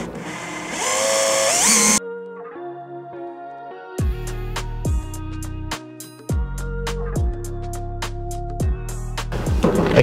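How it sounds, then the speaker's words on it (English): Short bursts of a power drill whirring as it drills pilot holes into a Land Rover Defender frame, starting and stopping several times in a rhythmic series, close and fairly loud, with brief pauses between. "So now we'll go around and drill the additional pilot holes"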